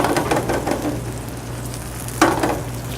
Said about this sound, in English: Now that's going to take 3 to 4 minutes frying in there because you want them to actually crispen on the outside